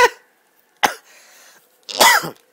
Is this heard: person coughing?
yes